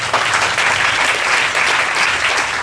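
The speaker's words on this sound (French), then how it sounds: "Est-ce qu'on peut acclamer la parole de Dieu?" A church congregation claps together in steady, dense applause that stays loud and close without pause for the whole stretch.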